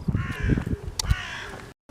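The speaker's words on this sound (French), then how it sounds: "Ah, j'ai le corbeau" A crow caws loudly and close, harsh repeated calls filling the moment, heard outdoors in a city garden with plane and chestnut trees.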